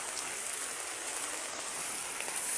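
Heavy rain pours steadily during a flood, a dense, continuous hiss of drops on surfaces that stays loud and even throughout, with no voices.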